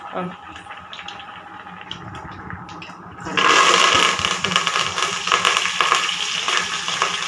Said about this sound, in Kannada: ಎಣ್ಣೆ ಕಾದ ನಂತರ ಏನಾಗ್ತಾ ಇದ್ದೀರಾ ಸಾಸಿವೆ ಸಾಸಿವೆ ಪಟ ಪಟ ಸಿಡಿಬೇಕು